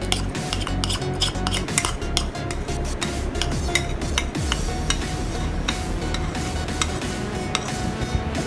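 Beef masala mixture with ginger, garlic and green chillies stirred steadily in a pot, a dense run of scraping and clinking strokes with a low bubbling sizzle underneath, loud and close throughout.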